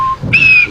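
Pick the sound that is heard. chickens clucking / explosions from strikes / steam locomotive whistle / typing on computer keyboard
steam locomotive whistle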